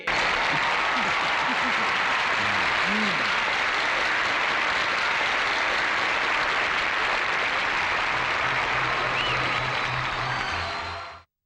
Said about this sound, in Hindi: एक बार फिर तालियों के साथ उनका स्वागत कीजिए।